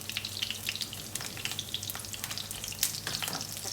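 Eggplant fries in a pan of catfish adobo, giving a busy crackling sizzle with sharp spits and pops over a low bubbling bed. The moderately close, uneven frying continues without speech.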